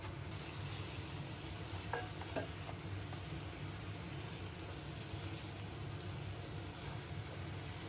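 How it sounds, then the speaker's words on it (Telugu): Chicken pieces added to a pan of coriander and mint, frying and being stirred, give a steady broadband sizzle throughout, with a few faint clinks of a utensil against the pan. "ఇప్పుడు క్లీన్ చేసి పెట్టుకున్న చికెన్ వేసేద్దాము."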